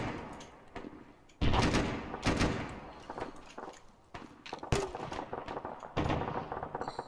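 Grenades fired in the military shooter game ArmA 3 come as a series of loud, sharp blasts and thuds spread irregularly across the moment, with dense gunfire-like cracks and rumbling between them.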